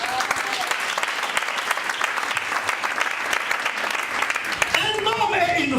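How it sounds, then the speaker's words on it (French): A church congregation breaks into loud, sustained applause and acclamation, dense clapping that carries on throughout, with voices calling and cheering over it toward the end. "Est-ce qu'on peut donner une offrande d'acclamation?"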